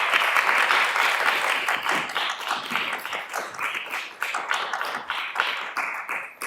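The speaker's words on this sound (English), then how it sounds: "can we give everybody a round of applause again?" An audience at a First Together commencement ceremony applauds, a dense, energetic burst of many hands clapping that stays strong and continuous for several seconds.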